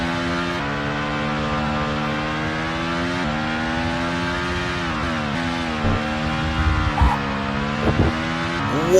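A Formula 1 car at the Sao Paulo Grand Prix in a career-mode racing video game holds a loud, steady high-revving engine drone with shifting pitch and brief tyre-scrub noise near the end as it slides.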